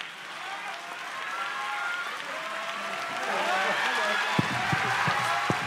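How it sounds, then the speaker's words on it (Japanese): A dense wash of audience applause fills a pro wrestling hall at Korakuen Hall, a continuous loud clapping roar that swells slightly, with a few sharp thuds near the end. "この拍手が証明です。"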